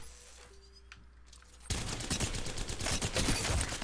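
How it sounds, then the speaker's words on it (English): Rapid energy-weapon gunfire in Apex Legends erupts suddenly after a quiet stretch, a dense, loud fusillade of shots continuing steadily to the end. "As you can see, I missed a lot of shots there."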